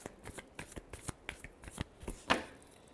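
Tarot cards being shuffled by hand, a rapid series of crisp riffling flicks and soft slaps repeating steadily for a few seconds, close and fairly quiet with no talking.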